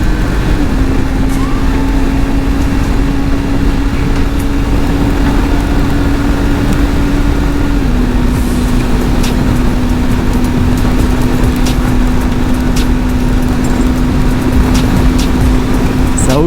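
A restricted four-cylinder car engine drives at speed, a steady loud drone with a constant pitch that drops slightly midway as the gear or revs change, carrying on continuously without talk.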